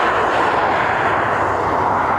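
Ryanair jet airliner at Dublin Airport, a loud, steady broadband engine roar filling the short stretch without a break and no voices.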